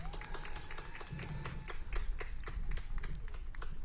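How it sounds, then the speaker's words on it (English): Crowd at a Mexico football match clapping after a goal, with scattered, fairly rhythmic claps that sound distant and faint over a low crowd murmur. "slight delay there in the Mexican applause"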